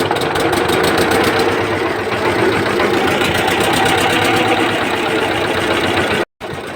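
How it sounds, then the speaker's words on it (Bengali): A fishing boat's engine runs steadily and loudly close by on the Hooghly River, a dense rhythmic chugging drone with a fast mechanical clatter that holds throughout, with a brief dropout near the end. "আমাদের ইঞ্জিন স্টার্ট দেওয়া হয়ে গেছে।"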